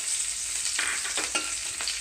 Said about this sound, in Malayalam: ചെറുതായി അരിഞ്ഞു വെച്ചിരിക്കുന്ന ഉള്ളി ഇടുക. വെളുത്തുള്ളി ചതച്ചതിടുക. മുറിച്ച് വെച്ചിരിക്കുന്ന മുളകും കറിവേപ്പില ഇടുക.